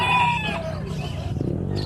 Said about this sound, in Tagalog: ito pa pala, yung mga maliliit na manok